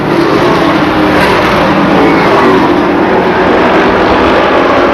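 Southern Pro racing pickup trucks roaring around a racetrack, a loud, dense, continuous engine drone of several trucks running close together, with no talking.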